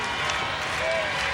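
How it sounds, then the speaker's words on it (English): A baseball crowd at a 1996 Syracuse Chiefs vs Pawtucket Red Sox game roars steadily while hoping for a strikeout, a broad, continuous cheer of distant fans with a possible voice mixed in. "Crowd looking for the strikeout"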